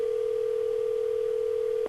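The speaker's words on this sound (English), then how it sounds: "It's like an actual ringtone." A steady, unbroken electronic phone tone from the video game OneShot sounds at constant loudness, alone and clear, cutting off abruptly at the end.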